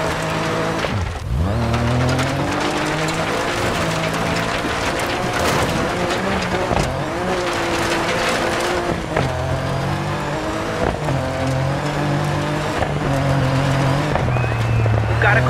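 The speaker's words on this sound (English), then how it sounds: "Back off the gas, and you'll see how it decelerates." Rally car in DIRT 4 easing off the throttle, its engine note dropping and falling in pitch, then rumbling on at a lower level, with a voice talking over the engine throughout.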